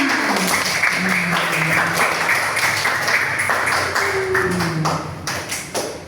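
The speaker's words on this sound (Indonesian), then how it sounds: "Tepuk tangan buat kita semuanya." Applause from a classroom of students at the close of a lesson, crisp scattered clapping running the whole time, with someone speaking over it and the sound thinning out near the end.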